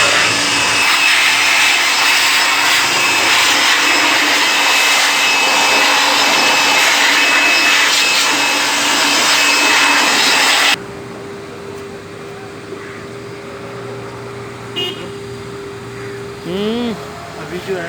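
An air blower dries a freshly washed motorcycle with a loud, steady, close roar for about ten seconds, then cuts off abruptly, leaving quieter background noise and brief faint sounds.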